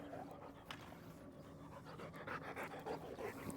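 Zuko, a dog at a training session, pants quietly in quick rhythmic breaths close by, faint and steady, with a few soft movement sounds.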